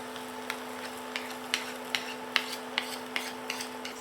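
Yogurt being stirred into a sizzling lamb bhuna curry in a pan, with a soft constant sizzle under regular spoon scrapes and taps roughly every half second, close and alone over a faint steady hum.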